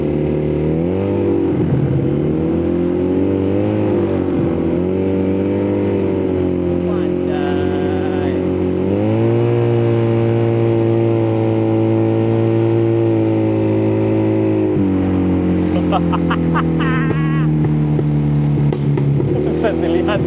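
A custom Honda Spacy 220cc scooter converted to a two-cylinder engine runs close by, with the engine note rising and falling through several revs over a steady idle while people talk in the background.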